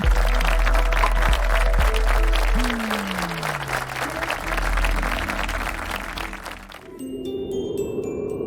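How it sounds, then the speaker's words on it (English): An audience at a business conclave welcomes a speaker with sustained, crowded applause, loud and steady, overlaid by a rising tone and chiming music, before the clapping gives way to a musical jingle. "Let's welcome him with a round of applause."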